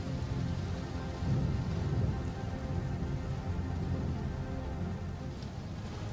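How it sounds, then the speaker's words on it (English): Steady rain falls near a harbor at night, a dense even hiss with low rumbling that swells slightly around the second and third seconds, like distant thunder under the downpour; no voices. "It was raining."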